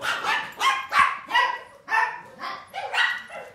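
A dog barks loudly and excitedly in a rapid series of about eight close, sharp barks with brief gaps, no other sounds around them.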